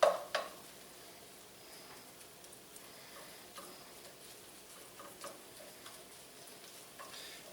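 Pulled pork is stirred and warmed in a pan with a low, faint sizzle and soft scraping ticks of the utensil, a couple of sharper knocks at the start, and no talking.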